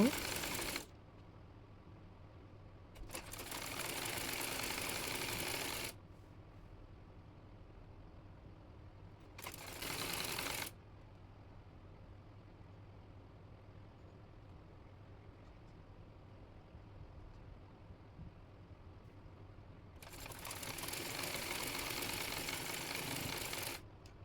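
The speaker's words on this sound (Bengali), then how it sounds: "নিচে আরও একটি চিকন লেস সেলাই করে নেব।" A sewing machine stitches thin lace onto kameez fabric, running in several separate bursts of a steady whirring drone, close by, with quiet pauses in between.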